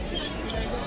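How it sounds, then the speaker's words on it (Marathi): Busy Sunday crowd chatter at the Gateway of India, Mumbai, a constant wash of overlapping nearby voices with no single sound standing out, lasting under a second. "गर्दी खूप आहे."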